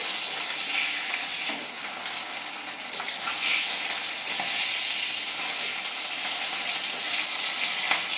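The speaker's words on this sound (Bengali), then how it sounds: "এইভাবে আমি সব মাছগুলোই ভেজে নেবো দুটো দুটো করে" Pieces of bata fish fry in hot oil, a dense, steady sizzle that holds at an even level throughout, close and loud with no talking.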